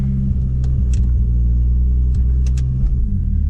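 A turbocharged Lexus IS300 fitted with a TH400 transmission idles and creeps in reverse, a loud, steady low engine rumble close by with a few faint squeaks and ticks over it.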